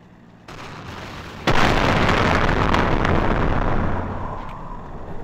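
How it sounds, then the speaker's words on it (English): A cannon shot fires in the Battlefield video game, a sharp loud explosive boom that jumps in suddenly after a quieter rumble and leaves a long dense roaring tail of battle noise lasting several seconds. "Oh, that was a cannon shot."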